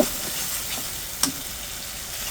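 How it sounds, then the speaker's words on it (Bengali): Spice masala being fried in a pan while cooking ridge gourd with stinging catfish, a steady close hiss and sizzle with a faint stirring click midway. "এখন আমি খুব সুন্দর করে মশলাটা কষিয়ে নেব"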